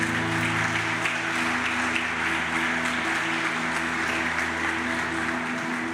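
A church congregation of the Quadrangular church applauding: continuous even clapping that holds steady throughout, with a low sustained musical drone underneath.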